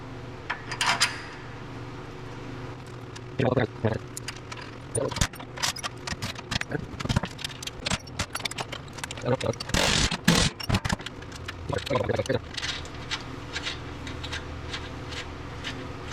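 Bolts being fitted into a broken Ariens riding mower frame during repair, scattered metallic clinks, rattles and taps of nuts and hardware, irregular bursts spread over several seconds with quiet gaps between.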